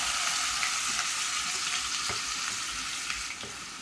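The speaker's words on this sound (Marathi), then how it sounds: "जिरे गरम झालेले आहेत आपण कांदा टाकूया" Onion hitting hot cumin in oil for pav bhaji fries with a loud, steady sizzle throughout, a few soft stirring clicks, no voices.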